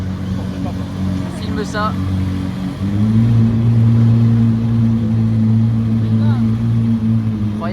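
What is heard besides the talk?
McLaren Senna GTR engine starting and running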